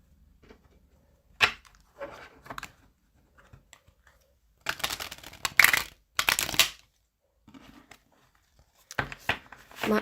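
Tarot cards are shuffled for a reading in short bursts of crisp riffling and flicking separated by quiet pauses, close by and moderately loud.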